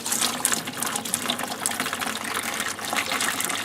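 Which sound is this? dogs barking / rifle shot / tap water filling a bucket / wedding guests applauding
tap water filling a bucket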